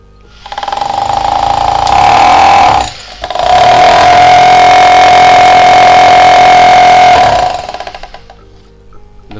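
A German-brand hammer drill made for the Japanese domestic market runs in concrete drilling mode, a loud, close, steady motor drone with rapid hammering that stops briefly once, then resumes and winds down.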